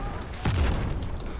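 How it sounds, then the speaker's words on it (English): A single deep boom thumps out in a Battlefield 4 Rush match on Golmud Railway, a short low blast rising briefly over a steady background of game noise. "Explosions everywhere."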